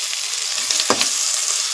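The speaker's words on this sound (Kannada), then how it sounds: "ಟೊಮೆಟೊ ಎಲ್ಲ, ಬೆಳ್ಳುಳ್ಳಿ ಎಲ್ಲ ಚೆನ್ನಾಗಿ ಫ್ರೈ ಆಗಿದೆ." Onion, tomato and garlic fry in a pan with curry leaves, a close, steady sizzle with a short stirring scrape in the middle and no talk.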